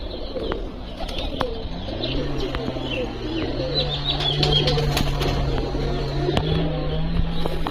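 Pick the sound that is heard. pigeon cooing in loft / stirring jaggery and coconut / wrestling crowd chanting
pigeon cooing in loft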